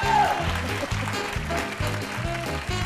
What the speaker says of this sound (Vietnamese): Xin quý vị dành một tràng pháo tay đón chào cặp vợ chồng Tuấn và Như